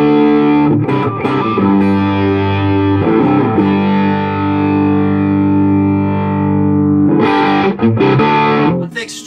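An electric guitar runs through a Quarterhorse 25W Microamp with the drive treble turned fully off, giving sustained distorted chords that ring out, with a pause and then a fresh strummed chord near the end.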